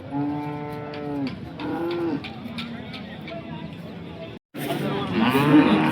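A cow moos loudly and close at a cattle market in Sangola, with long drawn-out calls over steady outdoor crowd noise and chatter, followed by a brief dropout and more busy market din.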